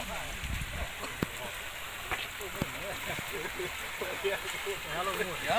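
A light, scattered rain falls outdoors as a continuous soft patter and hiss, fairly faint, with occasional small ticks and what seem to be quiet voices in the background.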